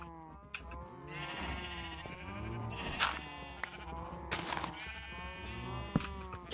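Several sheep bleating in the Minecraft video game, repeated wavering calls overlapping one another at moderate volume with no talk.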